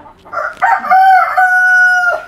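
A fancy rooftop chicken lets out a single loud, close crow that rises into a long sustained call and then trails off, with no talking over it.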